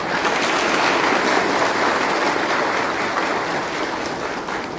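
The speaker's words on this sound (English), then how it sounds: "I request him to receive a small applause" Applause for a show host at a public dialogue event on fighting corruption. It is a steady, dense wash of clapping that holds for about five seconds and fades slightly at the end.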